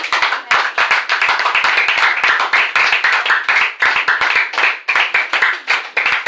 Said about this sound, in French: Est-ce qu'on peut acclamer très fort la parole de Dieu?